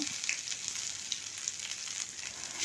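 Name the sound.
mustard seeds and dried chillies tempering in hot mustard oil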